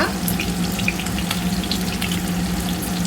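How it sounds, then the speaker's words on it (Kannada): Curry leaves fry in hot oil in a pan for lemon rice, giving a continuous loud, close sizzle and crackle with scattered pops and no talking. "ಜೊತೆಗೆ ಕರ್ಬೇವಿನ ಸೊಪ್ಪು ಹಾಕೋಣ."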